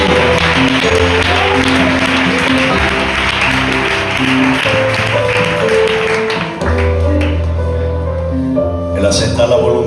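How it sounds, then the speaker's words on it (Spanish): Church congregation applauding a preacher's praise of God, steady dense clapping sustained throughout beneath loud organ or keyboard chords, with voices mixed in. "Fuerte el aplauso para este Dios que"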